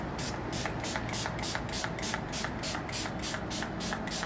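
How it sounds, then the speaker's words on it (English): Rapid bursts of a spray bottle misting water, about three per second, steady and close, with no talking. "So I'm just gonna spray some water on my skin."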